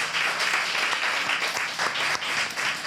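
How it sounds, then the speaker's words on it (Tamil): An audience at an annual dance programme gives a sustained round of applause, with dense, continuous clapping that fills the hall evenly throughout. "Dakshara Fine Artsக்கு ஒரு பெரிய கைத்தட்டல் கொடுக்கணும்"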